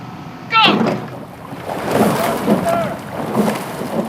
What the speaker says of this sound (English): Big noise as both crews take off cleanly in this final of the Princess Grace.